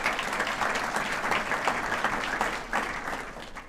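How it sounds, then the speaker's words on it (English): Steady audience applause at a scholar-athlete recognition awards ceremony, a dense, continuous wash of many hands clapping that holds at an even level from start to finish with no speech over it. "how about a round of applause for our sponsors?"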